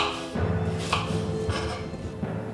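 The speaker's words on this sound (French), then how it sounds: "Je vais couper mes quartiers de pommes en petits carrés." Knife chopping apple quarters into small cubes on a board for Halloween apple and pumpkin biscuits, a dense run of steady close chops across the whole stretch.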